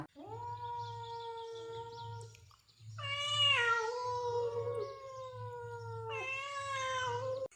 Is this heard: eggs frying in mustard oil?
no